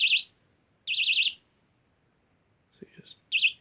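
A web shooter prop trigger on a fully charged battery gives short, shrill, wavering electronic buzzes in three separate bursts, with faint clicks and handling noise in between.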